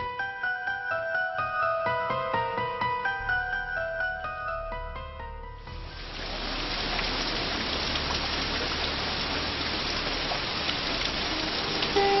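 After a few seconds of soft melodic music, incessant rain takes over as a dense, even, loud hiss that continues steadily to the end, with no speech.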